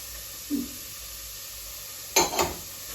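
Onions and carrots hit melted lard in a pot, giving a faint short sizzle and then two louder, brief hissing bursts of frying late on, with no talk.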